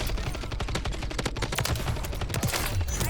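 Rapid automatic gunfire from a DG-58 LSW light support weapon in Modern Warfare 3, a dense, continuous stream of loud shots with battlefield noise layered over the bursts.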